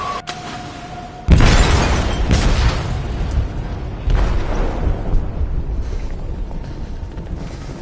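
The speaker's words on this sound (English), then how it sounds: "They detonated an explosive in the hold." An explosive detonates in a ship's hold: a sudden loud boom after a quieter moment, followed by a long rumbling roar with debris and shattering, then a second surge of rumble as it fades.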